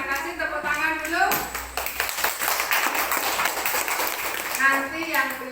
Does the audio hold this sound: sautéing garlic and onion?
no